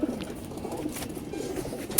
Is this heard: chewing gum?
no